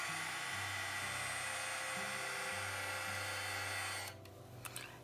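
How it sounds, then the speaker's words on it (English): A heat embossing tool blows hot air in a steady, loud whirring hiss with a low motor hum for about four seconds, then switches off, leaving a few faint knocks. "So now we're just going to heat emboss."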